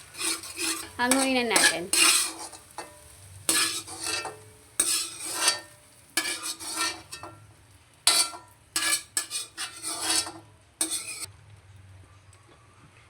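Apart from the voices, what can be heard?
stirring egg with carrots in a pan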